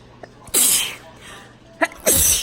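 Two close-up sneezes set off by tickling the nose with a Q-tip, each a sharp burst of breath with a short inhale before it, loud and near the mic, separated by quiet room tone.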